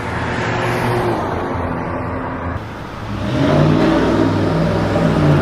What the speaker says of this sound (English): that guy was revving up his engine behind me